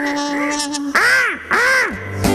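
A novelty bird caller toy, shown on stage at a comedy act, gives a few honking, warbling whistles. The calls come in rising and falling arcs with short gaps, close and fairly loud.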